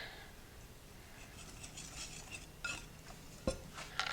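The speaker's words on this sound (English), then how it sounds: "I'm just going to whisk this together." A whisk scraping and clinking through flour and salt in a bowl for an apple crumble topping, soft irregular strokes with a few sharper metallic taps near the end.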